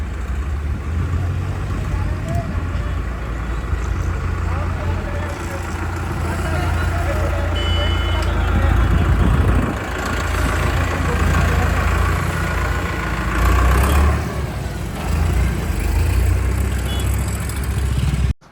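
A Digitrac PP 46i tractor with a loader rumbles with a low steady engine drone in a village, running throughout while people talk nearby.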